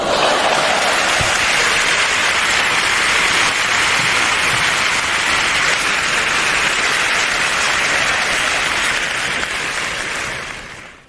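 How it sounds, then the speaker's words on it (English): A dense, steady wash of applause and cheering fills the space evenly for several seconds, holding at a constant level before tapering off at the very end, with no speech over it. "Let's get some cheering going here."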